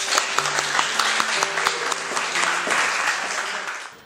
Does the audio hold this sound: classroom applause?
yes